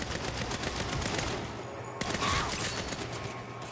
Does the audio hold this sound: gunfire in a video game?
yes